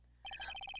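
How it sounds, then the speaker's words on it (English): A cell phone ringtone in a video game starts abruptly after a brief quiet moment, a rapid series of bright electronic beeps pulsing evenly and close. "All of a sudden, the phone began to ring."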